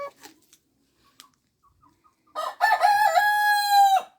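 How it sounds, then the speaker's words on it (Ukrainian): A black Araucana rooster crows once, loud and close, a long strained call after a few faint clucks and quiet pauses. "Чорний аміраукана кукаріка."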